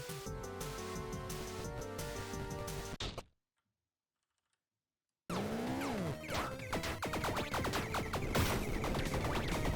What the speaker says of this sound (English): apparently that was the sound of armor break